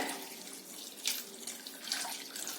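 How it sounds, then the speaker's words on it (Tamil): Water running from a tap into a bowl of flattened rice (aval) set to soak, a steady hissing splash with a few brief louder gushes, close and continuous, no talking. "இது ஊறட்டும் நான் தண்ணி சேர்த்து ஊற வச்சிடுறேன்"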